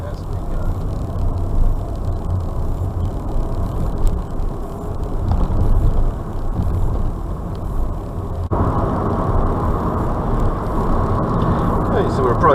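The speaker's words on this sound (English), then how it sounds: "Again, just accelerating away into third gear as we go." Car engine pulling away and accelerating into third gear, a steady low drone with road noise rising, then a gear change as the tone shifts, under a driving instructor's running talk.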